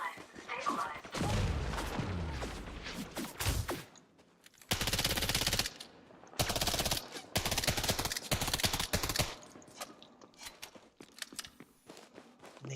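Sustained automatic weapon fire in the space game Elite Dangerous, loud bursts of rapid shots alternating with brief pauses, mixed with game effects and occasional voices.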